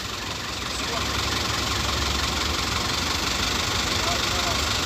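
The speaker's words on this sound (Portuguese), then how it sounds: "Trator aí da Neo Holly," A New Holland tractor idles close by at a heavy-machinery training course in Atalaia, Alagoas, Brazil, giving a steady knocking engine rumble that rises slightly after the first second, with no one speaking.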